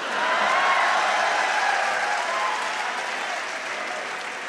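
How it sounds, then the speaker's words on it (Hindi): Sustained applause from a kavi sammelan audience at a Hindi comedy and satire poetry recital, a dense wash of clapping that stays fairly loud throughout and eases slightly toward the end. "इस बार आपकी तालियां जरूर उठेंगी"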